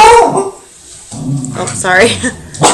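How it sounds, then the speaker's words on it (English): A pet dog barks and yips at home, loud and close, in a few short bursts mixed with a person's spoken voice. "that was my dog"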